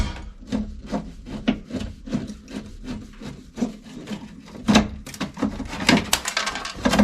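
Plastic dashboard trim being worked loose and pulled off in a car, a rapid series of short woody scraping and rubbing clicks, close and steady, growing louder and busier toward the end.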